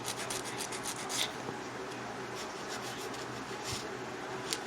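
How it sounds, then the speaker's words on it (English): A higher-grit hand file works over acrylic nails with a continuous close, soft rubbing rasp, quick strokes blending into an even scratchy texture with no voices. "I am going to get my hand file. This one here, because it's a higher grit."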